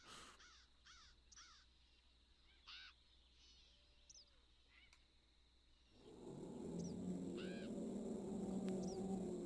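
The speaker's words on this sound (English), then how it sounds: "That crow sound." Several crows caw in short repeated calls among palm tree leaves in the Jurassic Park Sega CD video game, with quiet synthetic ambience that swells into a louder rushing wash midway.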